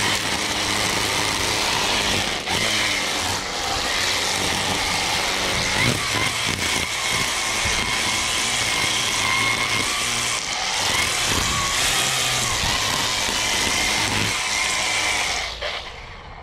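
A trimmer motor runs loud and close without a break, a steady high buzzing whine with slight changes in pitch as it cuts, then fades off at the very end.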